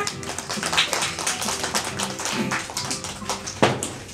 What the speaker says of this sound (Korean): 박수로 청해드릴게요